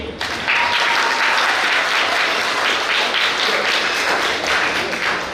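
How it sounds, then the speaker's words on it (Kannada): Schoolchildren at a community book distribution event burst into loud, dense applause that starts abruptly and holds steady for several seconds. "ಸಂತೋಷ ಆದ್ರೆ ಜೋರ್ ಚಪ್ಪಾಳೆ ತಟ್ಟಿ"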